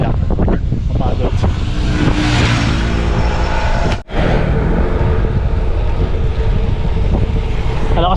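Strong wind buffets the microphone during a gravel bike ride in Rizal–Laguna with views toward Talim Island, a loud, constant roaring rush with a brief dropout midway; a rider talks over it.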